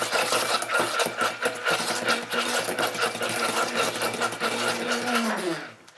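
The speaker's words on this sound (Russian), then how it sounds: "Берем миксер, насадку венчик и" An electric hand mixer fitted with a whisk attachment beats cake batter for a Prague cake, giving a steady, loud motor whir with rattling that runs the whole time and winds down at the very end.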